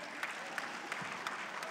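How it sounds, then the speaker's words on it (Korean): Applause from the audience at a Korean entertainment arts awards ceremony: a short, steady burst of many hands clapping at moderate distance, with a few sharper claps standing out. "나오실 때 큰 박수로 맞아주시면 감사드리겠습니다"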